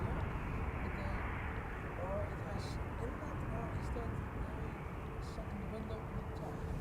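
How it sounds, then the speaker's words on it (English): A business jet lands at Amsterdam Schiphol with its thrust reversers deployed, giving a low, steady rumbling roar at moderate distance. "That's a bizjet with its reversers"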